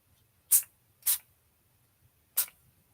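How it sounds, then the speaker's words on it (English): Three short sharp hisses from a spray bottle misting ink onto a card, irregularly spaced and close, separated by near silence. "what I'm going to do is just come in, random spray, pick it up so that I let it drip down a bit"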